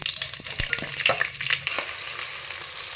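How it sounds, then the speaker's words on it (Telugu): Whole garam masala spices sizzling and crackling in hot oil with a little ghee, a dense steady fry with sharp pops and spits, close and loud, with no voices. "ముందుగా ఆయిల్ అయితే పోసుకోవాలి కొద్దిగా నెయ్యి తర్వాత ఓల్డ్ గరం మసాలా"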